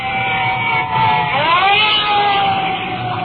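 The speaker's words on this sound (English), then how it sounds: "additional fire trucks are pulling up and are coming in directly behind us. I can hear their sirens" Fire truck sirens wail close by at a fire response, a loud continuous siren with a rising sweep midway over rumbling traffic and engine noise.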